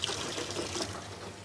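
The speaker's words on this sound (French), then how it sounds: "je vais faire couler mon eau la plus froide possible au robinet" Cold water runs from a kitchen tap in a bakery setting, a steady, fairly quiet splashing stream heard close up with no talking.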